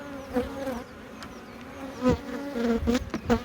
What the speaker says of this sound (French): Ruche qui chante, reine qui manque